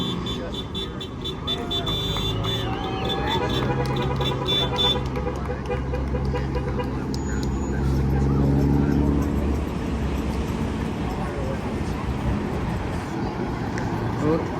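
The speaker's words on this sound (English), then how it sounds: "We got the honking of the truck horns and stuff like that." At a street protest in Newark, New Jersey, truck horns honk in long sustained blasts over constant traffic noise, with people talking nearby throughout.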